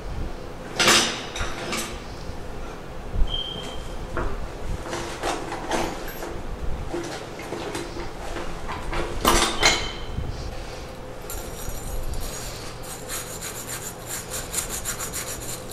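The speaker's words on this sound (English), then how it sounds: "this is a half inch cleaning brush that I'm using to uh, clean it up real good" A half-inch cleaning brush scrubs inside the half-inch outlet of a tub and shower valve, giving close, rasping strokes in irregular bursts with brief pauses and a few metallic clinks.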